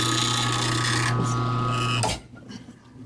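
A steady powered tool whirs loudly while lapping the pivot holes on a frame, then cuts off abruptly, leaving quiet shop noise.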